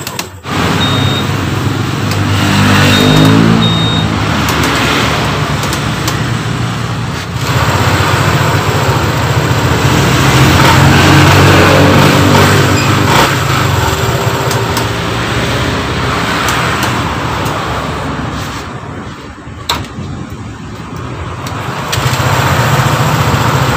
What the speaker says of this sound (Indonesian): Sekarang motor sudah hidup normal ya.